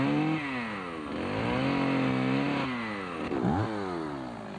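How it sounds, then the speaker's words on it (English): Chainsaw undercutting a tree on a lawn, its engine revving up and down in several strong rising and falling sweeps, loud and close, with no talk. "You have to undercut it first, otherwise it strips down."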